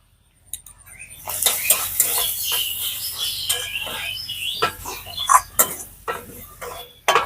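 A spoon scrapes and clinks against a pan while stirring a spice masala of turmeric and Kashmiri chilli powder, uneven metallic knocks and scrapes repeating close by, with faint bird calls in the background.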